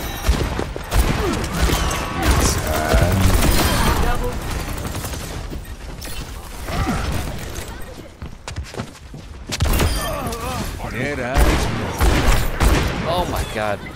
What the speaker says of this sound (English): Cassidy's gun reverberates through the hallway so loudly.